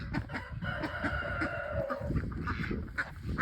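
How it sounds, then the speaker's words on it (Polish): Farm ducks quacking and honking in a loose group nearby, repeated calls overlapping with other fowl, loud and continuous with no talking. "z tym pięknym akcentem kończymy na kaczkach"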